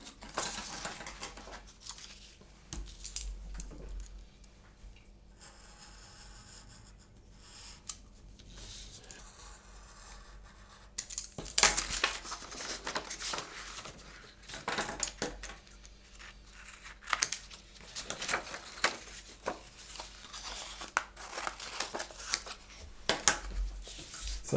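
Scissors cut out a paper pop-up shape, snipping in irregular bursts of crisp blade clicks and paper rustle, with a few quieter pauses, close and alone without talk.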